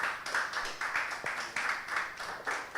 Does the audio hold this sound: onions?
no